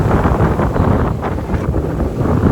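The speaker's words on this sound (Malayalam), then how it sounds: "ഇവിടുത്തെ കാറ്റാണ് കാറ്റ്." Strong wind at Palani buffets the microphone in a steady, loud roar with gusty low rumbling throughout, no voices.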